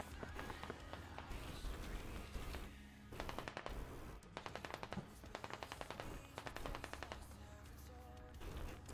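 Automatic weapons fire rattles in a Squad video game match, with several rapid bursts of gunshots in quick strings. Between the bursts there are ambient battle noises and the sound of movement.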